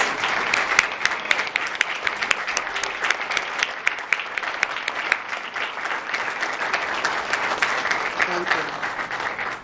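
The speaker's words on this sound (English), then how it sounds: "I'd like to ask the parade committee at this time to please stand and turn around so we can give you a round of applause that you deserve" An audience at an American-Irish ceremony and flag raising gives the parade committee a sustained round of applause, loud dense clapping with a few sharp individual claps standing out, lasting nearly ten seconds.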